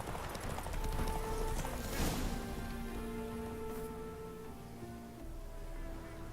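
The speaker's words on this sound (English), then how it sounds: "Why is there just a horse sitting here?" Horse hoofbeats clip-clop over a steady ambience in the video game The Witcher 3: Wild Hunt, with soft tonal music and a brief whinny-like rustle.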